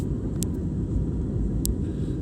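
Inside an airplane cabin during takeoff, a steady, loud low engine roar fills the space, with a couple of brief faint clicks over it and no talk.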